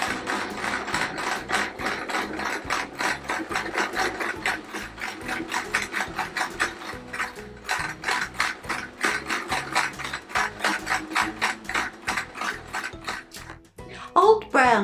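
A domestic sewing machine stitches around a quilt appliqué square in a steady, fast mechanical clatter of rapid repeating needle strokes, close and continuous, with brief pauses and a small handling knock at the end.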